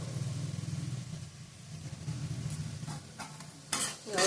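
Spices with Kashmiri chili powder, turmeric and tomato being sautéed in a pan, a low steady sizzle with stirring, ending in a louder burst of frying hiss.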